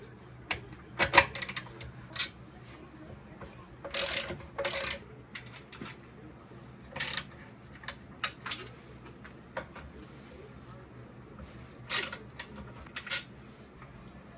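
Small 7/16 inch bolts come off from under the gas can of a 77-year-old Johnson outboard motor, with scattered ratcheting clicks and metallic taps in short bursts between quiet gaps.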